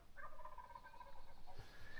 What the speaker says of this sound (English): You got a tom gobbling by itself right here